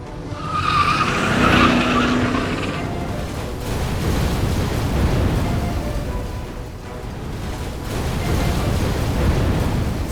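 A car skids hard and rolls over in a crash, a sustained loud roar of tire scraping and rumbling impacts that swell and fade across the whole stretch with no talk.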